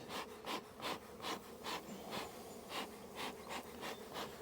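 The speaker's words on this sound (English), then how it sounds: "Another good full box of bees." Honeybees buzz inside a full, heavy hive box, the hum steady but pulsing in repeated swells of about two per second, close by with scraping wooden rubs mixed in and no talk.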